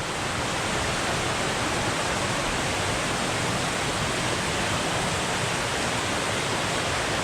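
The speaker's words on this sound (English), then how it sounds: "here's that little waterfall we could almost see down the way" A small waterfall on a creek pours steadily, a dense, even rush of falling water that fills the whole stretch without a break, close and loud with no voices over it.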